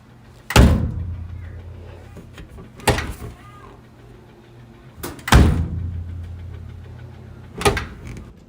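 A clothes dryer tumbles its load: heavy, solid thuds land roughly every two and a half seconds over a low, steady motor hum, each knock fading quickly.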